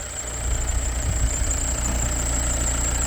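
A 2022 Kia Sorento with a small turbo diesel engine idles at a port, its low, steady rumble close and even, topped by a faint high whine. No one speaks.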